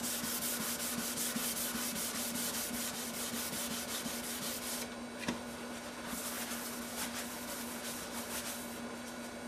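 Steady, close sanding rasps continuously over a Target EM6000 guitar body in a smoothing pass, with a faint tonal hum underneath and one brief knock midway.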